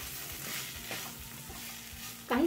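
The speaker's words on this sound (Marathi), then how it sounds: "काही सेकंद आपण मसाले हे कांद्यासोबत परतून घेतले" Ground coriander and cumin sauté with onions in a pan for a smoky baingan bharta, a steady close sizzle with faint stirring scrapes, ending in a brief louder clatter.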